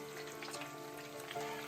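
Black cod fillets fry in a hot pan with a cast-iron bottom, giving a steady, close crackling sizzle with light popping throughout the short moment.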